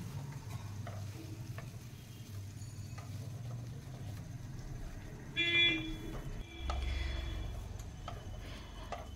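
Two dry red chillies sizzle in hot oil left over from frying paneer: a quiet, steady crackle with light stirring and brief louder spits near the end.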